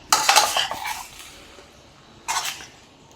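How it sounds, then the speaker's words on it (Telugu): A spoon scrapes and clatters against a metal pot while chicken with turmeric and salt is stirred for chicken pickle, then a lid clanks into place, close and clear with a quiet pause between. "పసుపు, ఉప్పు వేసుకొని ఒకసారి కలిపేసుకొని మూత పెట్టేద్దాం"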